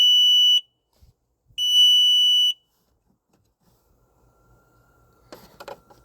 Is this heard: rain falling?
no